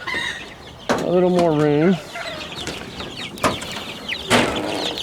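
Young poultry cluck and peep in a small pen under a warming light, with Somalis, turkeys and Buff Orpington chicks together. One rising call stands out near the start, among scattered short cries, while a person talks briefly.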